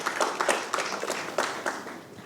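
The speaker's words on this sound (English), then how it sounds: "I think a round of applause for the chairman" A conference audience applauds their chairman at a port logistics conclave. The clapping is steady, with many hands patting together, and it holds for the whole stretch, with no talk.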